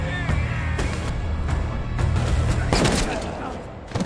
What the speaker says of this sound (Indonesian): Johan yang kesal menembak